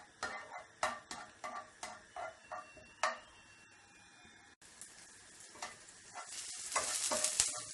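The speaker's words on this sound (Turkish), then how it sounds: "Ve şöyle hafif çok az yağ ile soteleyeceğim." Sliced garlic sautéing in a small amount of oil, first a series of quick stirring scrapes of a utensil against the pan, then a rising, steady sizzle, heard close with no talk.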